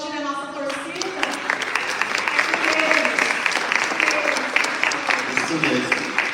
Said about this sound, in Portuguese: Aplaudir a nossa torcida.